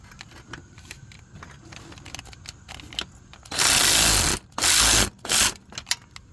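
A hand ratchet clicks in quick rapid strokes while tightening the serpentine belt on a third-generation Mitsubishi Eclipse, the clicking fast and close, followed by three louder rushing bursts.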